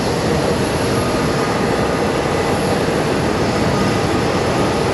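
An Embraer regional jet in United Express livery, operated by Mesa Airlines, roars steadily at Phoenix Sky Harbor, a loud, unbroken broadband engine rumble and whine with no talking.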